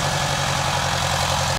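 An International 240 tractor engine idling close by, a steady low throbbing chug with even rhythmic pulses, loud and unbroken until it cuts off abruptly at the end.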